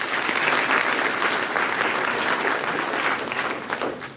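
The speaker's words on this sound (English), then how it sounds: "A huge round of applause for all of you." Sustained applause from an audience at a chartered accountants' meeting, a dense, steady wash of many clapping hands that keeps going throughout and tapers slightly at the end.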